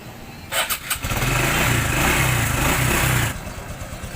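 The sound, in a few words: Honda XRM 125Fi motorcycle engine starting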